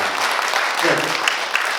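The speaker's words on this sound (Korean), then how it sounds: "여러분 큰 박수 부탁드립니다" Dense applause from an audience at the 18th Gunsan Arts Award ceremony in a small theater, a steady, full clapping that fills the whole moment at close range.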